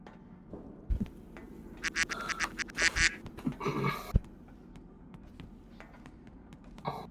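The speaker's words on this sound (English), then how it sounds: "That's a duck." A duck quacks in a burst of short nasal calls with scattered clicks and taps around them, set in a noisy game-stream background.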